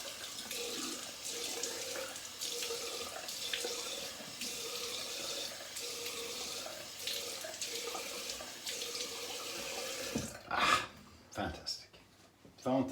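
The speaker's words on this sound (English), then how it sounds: "Now we're gonna rinse with cold water." Cold water running from a bathroom tap for rinsing after a straight-razor wet shave, a steady close splashing stream that cuts off near the end, followed by a few clunks and drips.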